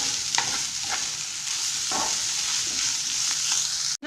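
A black pepper and parsley mixture is stirred in a pan, giving scraping strokes at irregular intervals over a steady background hiss, with no talk.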